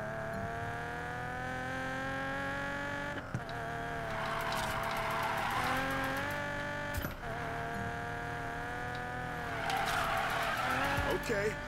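Tire squeal and a revving car engine from a drift in Need for Speed Payback, continuous and loud, with the screech swelling in several surges over the engine drone.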